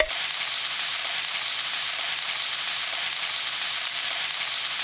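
A steady, loud, unbroken hiss of seasoning stir-frying with minced garlic and green onion in cooking oil over high heat, filling the whole stretch without pause.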